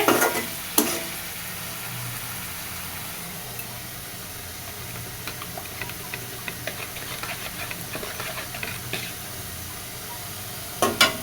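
Spice paste fries softly in a pan on a home stove, giving a low, continuous sizzle. Scattered stirring clicks and taps surface over it, with a few sharper knocks near the start and end.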